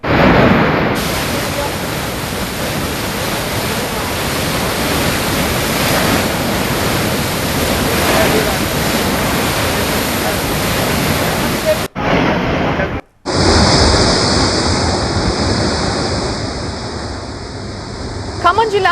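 Godavari river water rushing through a pump house during a trial run, a loud, steady broadband roar that fills the scene and breaks off briefly near the end before resuming.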